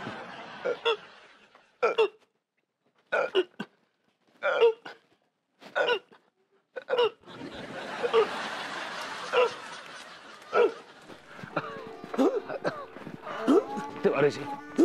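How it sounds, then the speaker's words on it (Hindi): A person in a Hindi TV sitcom scene hiccups sharply about once a second, each hiccup short and clear against near silence. Louder overlapping voices and busier noise follow. "मुझे भी हिचकी शुरू हो गई"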